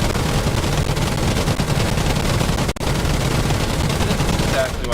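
Rapid, dense cannon fire from a WWII fighter in the DCS combat flight game, a continuous loud rattling burst with a brief break midway, unbroken and close.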